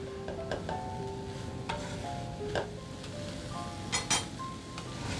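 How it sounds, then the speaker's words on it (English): Cauliflower and green peas subzi being stirred in a pan over a medium flame, with a soft continuous sizzle and scattered clinks of a spoon against the pan, growing busier near the end. "We're going to mix this well and we're going to cook it on a medium flame for 2 minutes."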